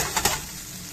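Gnocchi frying and being tossed in a pan until crispy, a steady close sizzle with a couple of quick stirring scrapes near the start.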